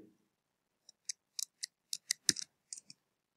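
Fingers tapping a computer keyboard to enter a password, about a dozen sparse, quiet, close clicks in an irregular rhythm with no talking.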